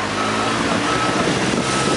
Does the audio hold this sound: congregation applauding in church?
no